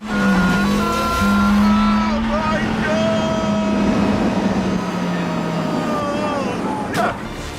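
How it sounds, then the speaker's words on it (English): A Renault car revs loudly and drives hard toward a ferry that has already left the dock, its engine note rising and falling steadily, with skidding and water noise mixed in and people talking over it. "when Clarkson attempts to jump onto the boat after it's left the dock, the vehicle falls a little short"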